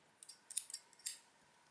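A few quiet, crisp metallic clicks and snips from small folding travel scissors being pulled apart and handled up close, with short pauses between them.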